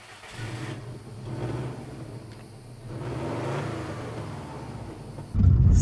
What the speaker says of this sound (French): je te laisse démarrer la bagnole